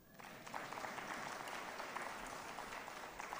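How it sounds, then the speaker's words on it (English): An audience applauds at the launch of an election strategic plan and operation plan, a soft, steady wash of many hands clapping that carries on for a few seconds at low volume, with no talk over it. "I expected a clap for that."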